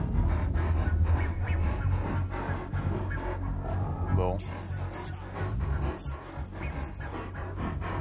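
A dog panting during Grand Theft Auto V gameplay, steady quick breaths running under continuous game sound and someone talking over it.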